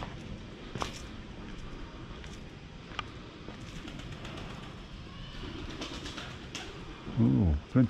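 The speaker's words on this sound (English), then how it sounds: "Oh, plenty of pigeons here." Pigeons in a back street of Valletta, Malta, give a few soft coos at the end after a quiet stretch of distant street ambience with faint knocks and a low voice.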